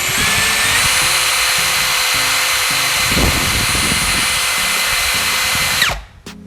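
A Tekiro XV 20V cordless drill runs continuously with a high motor whine that climbs in speed, then winds down and stops near the end, loud and close.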